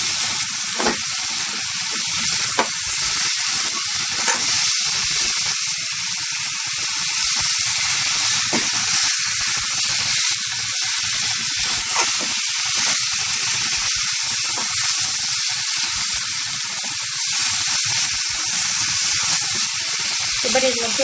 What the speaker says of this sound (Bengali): এবার এটাকে আমার কন্টিনিউ নাড়িয়ে যেতে হবে।